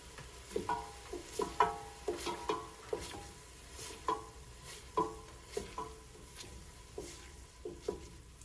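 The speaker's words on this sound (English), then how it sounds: "So keep on sauteing that. Stir that up, buddy. Fast." Vegetables sauté in a hot pan while a utensil stirs them briskly, producing a steady run of close, rhythmic scraping strokes about twice a second over a soft sizzle.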